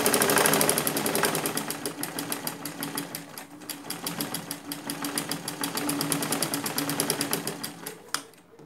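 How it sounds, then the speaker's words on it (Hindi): Up close, a sewing machine stitches a pleated fabric face mask in a fast, rhythmic mechanical chatter that holds steady for about eight seconds, dipping slightly midway before finishing with a single sharp click. "सिलाई कर लेते हैं।"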